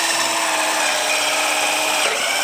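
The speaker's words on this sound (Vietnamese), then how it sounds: "Nó cái mũi khoan sắp quạch tới bên kia nè." A power drill bores through wood with a steady high whine and grinding rub, its pitch shifting slightly near the end as the bit nears breaking through, loud and close with no talking.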